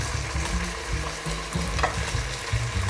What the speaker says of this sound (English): I'll put the onions and the carrots in next.